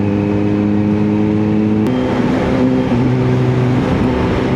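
A Kawasaki Z H2 motorcycle with an Akrapovic exhaust pulls away on an empty road, a loud, steady engine drone that shifts gear partway and keeps pulling hard at high revs.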